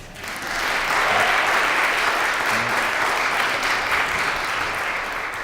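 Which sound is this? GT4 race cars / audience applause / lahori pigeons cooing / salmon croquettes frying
audience applause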